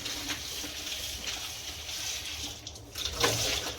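Green chillies rinsed under a running kitchen tap, a steady broadband splash of flowing water that swells and dips as the chillies are turned, with a brief lull near the end before the stream picks up again.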